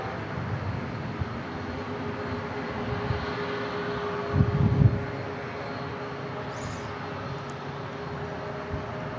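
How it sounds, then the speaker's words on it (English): An Embraer E-175 airliner takes off at San Diego International Airport, a steady, broad jet roar that holds at moderate distance throughout, with a brief louder swell partway through. "here's an E-175 taking off"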